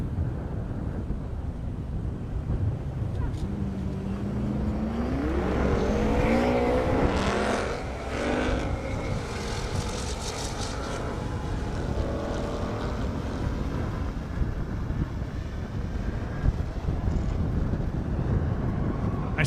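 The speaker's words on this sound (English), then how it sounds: "I swear those McLarens sound almost alien when they go down the track." McLaren race cars speed down a half-mile airstrip at a 200+ mph event, heard as a far-off engine whine that rises in pitch and fades over a loud, steady wind roar.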